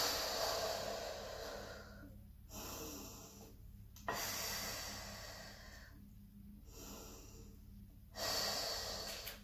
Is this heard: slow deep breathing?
yes